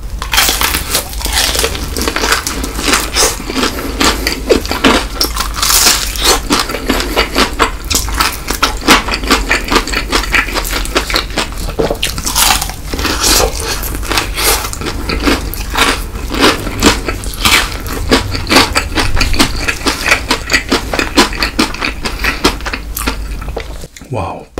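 Crunchy BHC potato fried chicken is bitten and chewed up close, a dense, loud stream of crackling crunches repeating steadily with brief clinks of cutlery in between.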